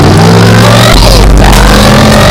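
A scooter engine idles nearby, then revs up loudly with a deep, steady hum, alone without talk.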